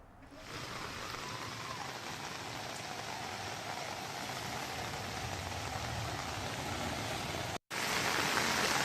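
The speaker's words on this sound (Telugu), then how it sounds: "ఈదురు గాలులతో కూడిన భారీ వర్షం కారణంగా చాలా వరకు లోతట్టు ప్రాంతాలు జలమయమయ్యాయి" Heavy rain with gusty wind pours down in Vijayawada, a loud, dense, unbroken roar of drops on surfaces that cuts out for a split second near the end, with no one speaking.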